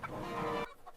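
A hen gives a brief, close clucking call, one short burst of throaty fowl sound that cuts off abruptly into quiet.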